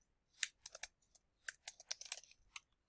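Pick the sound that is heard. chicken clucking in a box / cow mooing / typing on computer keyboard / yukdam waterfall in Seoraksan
typing on computer keyboard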